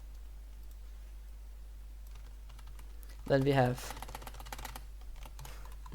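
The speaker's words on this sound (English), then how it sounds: "sorry if my keyboard is loud" Typing on a computer keyboard close by, with steady quiet key clicks throughout and a short spoken phrase partway through, under a constant low hum.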